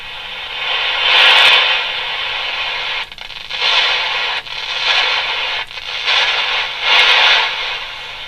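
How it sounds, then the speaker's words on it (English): Harsh, hissy broadband static from a Quansheng K5 radio with Si4732 mod swelling and dipping in several bursts with brief dropouts, like a radio sweeping across stations between signals. "It sounds like an artificial sound whenever you try to tune anything."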